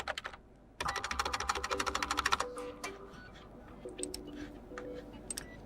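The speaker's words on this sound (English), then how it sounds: "Now I'm typing from the keyboard" Fingers type on a PC computer keyboard in a fast, rapid run of close clicking keystrokes, then slower scattered taps and pauses in a quiet room.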